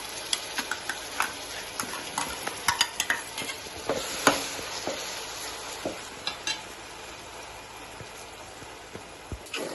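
Onions, green chillies and garlic paste fry in a pan as a spoon scrapes and taps irregularly, a quick run of sharp clicks and strokes over a low, steady sizzle, nearby and with no speech.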